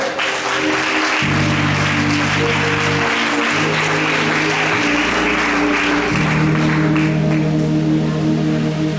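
A church congregation applauds loudly and continuously while sustained keyboard chords play underneath.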